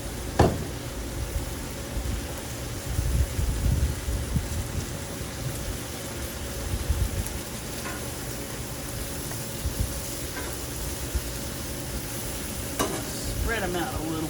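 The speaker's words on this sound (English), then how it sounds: "so mushrooms sauteed. A little bit of bacon grease." Mushrooms sauté in bacon grease with salt and pepper on a Blackstone griddle, giving a steady, close sizzle throughout with occasional scrapes and taps of a utensil.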